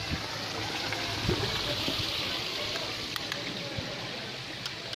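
Water flowing and collecting in a hillside village, a steady broadband rush like a stream or trickle running continuously at moderate distance, with no talk over it.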